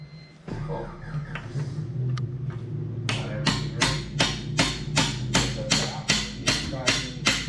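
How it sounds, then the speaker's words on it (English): After a few quiet knocks, a hammer strikes a metal socket extension in a quick, even series of sharp taps, about a dozen, close by, while working on Skunk2 Pro 1 cams. "I'm gonna give it a couple smacks with the extension and the hammer"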